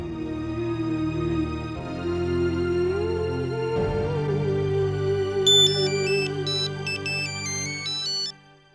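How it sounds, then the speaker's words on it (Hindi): A telephone ringtone plays as a call is placed, a repeating electronic melody ringing clearly over steady music for several seconds before cutting off. "विनोद जल्दी से सतीश को फोन लगा दे, मुझे उसे शुक्रिया अदा करना है।"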